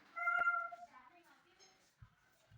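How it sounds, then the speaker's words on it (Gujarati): A single cat meows clearly in the foreground, a drawn-out tonal cry, followed by faint low thumps and quiet background noise. "બિલાડી આવી કાલના જેમ"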